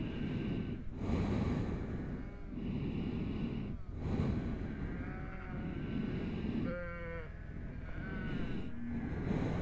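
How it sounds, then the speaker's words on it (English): Shorn ewes bleat on a farm, several wavering calls rising over a steady low background of flock noise and snorting, with the bleats spaced irregularly and heard at middle distance. "the ewes that Josh is bringing up are the ones that are going in tomorrow"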